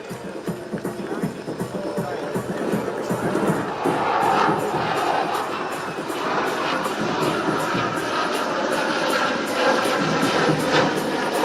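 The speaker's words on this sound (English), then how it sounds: "a big round of applause for the light combat aircraft Tejas" An air show crowd at an Indian Air Force anniversary event applauds and cheers as a Tejas light combat aircraft passes, producing a steady wash of clapping and crowd noise throughout, moderately loud and swelling midway.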